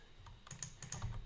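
Soft, quick keystrokes on a computer keyboard, a short burst of close typing that is faint and heard alone.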